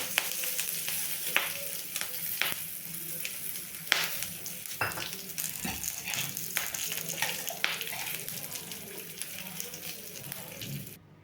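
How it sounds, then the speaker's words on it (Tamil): Mustard seeds and curry leaves crackle and sizzle in hot oil for tempering a gooseberry thogayal, with scattered sharp pops over a steady low fry, fairly faint and close. "கடுகு பொரிஞ்சோன்னா கருவேப்பிலை போட்டுக்கலாம்"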